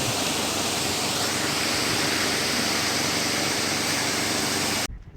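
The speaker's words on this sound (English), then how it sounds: "The waterfall name is Rani Duduma." Rani Duduma waterfall in Koraput, Odisha, a dense, constant roar of falling water heard close and loud throughout, ending abruptly.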